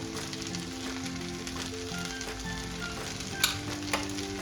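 Tomato rice is stir-fried in a pan, giving a steady, close sizzle with soft scraping. A couple of sharper clinks land near the end, and nobody speaks.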